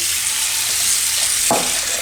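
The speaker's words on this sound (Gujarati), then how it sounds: "એમાં ઠંડુ પાણી નાખી દેવાનું" Cold water rushes steadily over cooked wheat-flour noodles in a strainer, a constant splashing hiss with one brief heavier splash midway.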